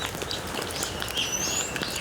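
Light rain pattering at a historic Jeju site where Chusa Kim Jeong-hui taught in exile, with thin bird chirps and tweets threaded through the steady soft hiss.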